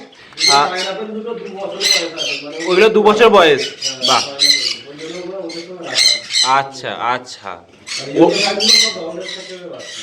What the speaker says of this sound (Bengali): এখানেও কিন্তু বেশ কিছু পাখি আছে সব ইউলো সাইডেও আছে পাইনাপেলও আছে